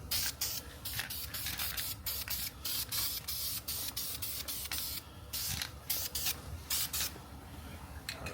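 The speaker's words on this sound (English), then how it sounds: "let's go ahead and apply our first coat of primer. Light coat for the first coat." A light first coat of primer is sprayed onto a Chrysler 300 brake caliper in short repeated hissing bursts with brief pauses between passes, fairly close and alone.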